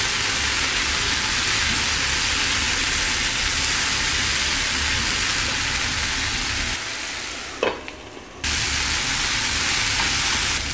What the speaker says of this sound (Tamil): நல்லா வதக்கணும் காய்.